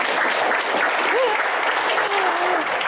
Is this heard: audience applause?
yes